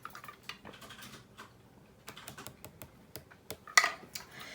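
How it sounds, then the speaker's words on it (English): Someone types on a computer keyboard in the background, quiet irregular clicks in short bursts and pauses, with one sharper louder keystroke near the end. "you might be hearing Sam typing in the background"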